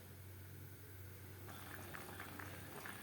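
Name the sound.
fish curry gravy boiling in a pot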